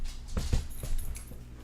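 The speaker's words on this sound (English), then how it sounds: "Sorry, that's my dog." A Belgian Malinois–German Shepherd mix whimpers indoors in a few soft, brief whines, close by and fairly quiet, with low thumps and room noise around them.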